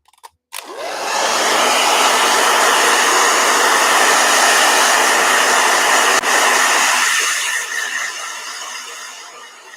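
A hair dryer switches on with a click and blows with a loud, steady whooshing hiss for several seconds, then begins to wind down, heard alone and close by.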